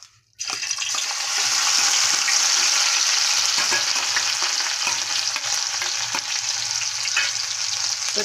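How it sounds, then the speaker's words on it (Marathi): Green chili and garlic paste hits hot oil with a sudden, loud, steady sizzle that holds strong and close for about eight seconds, with faint stirring scrapes scattered through it. "आता आपण हिरवी मिरची आणि लसूणची मसाला केलेला तो टाकून घेऊया."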